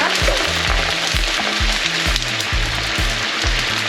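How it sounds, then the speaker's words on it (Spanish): Potatoes fry in hot oil in a home kitchen, a loud, steady crackling sizzle that holds throughout, with a low, regular thumping pulse running beneath it. "le añadimos un poquito de sal a las patatas para que se vayan friendo"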